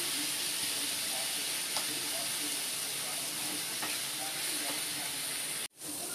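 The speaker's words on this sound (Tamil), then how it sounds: "தனி மிளகாத்தூள், சாம்பார் பொடி எல்லாம் போட்டு நல்லா வதக்கணும்" Chili powder and sambar powder sautéing in a pan for hotel-style sambar make a steady close sizzling hiss with faint stirring clicks. The hiss runs unbroken for about six seconds and cuts out briefly near the end.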